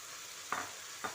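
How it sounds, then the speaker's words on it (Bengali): Fried potatoes go into a sizzling spice paste in a pan, a soft hiss broken by two quick scraping stirs about half a second apart. "এবার এই পর্যায়ে ভেজে রাখা আলুগুলো দিয়ে দিচ্ছি"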